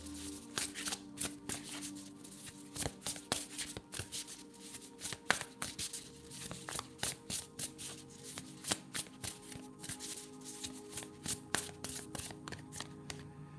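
Oracle deck cards riffle-shuffled by hand in a steady run of crisp, close flutters and snaps with brief pauses, heard alone without talk.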